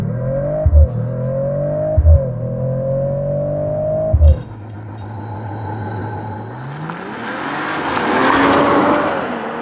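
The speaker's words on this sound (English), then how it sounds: "CLE53. With race start." 2024 Mercedes-AMG CLE53 with a 3-liter mild-hybrid inline six doing a race-start launch: a few sharp revs, then a loud engine pulling hard through the gears before a rising roar near the end.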